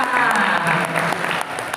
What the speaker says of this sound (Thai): ปรบมือดังให้น้องปอยค่ะ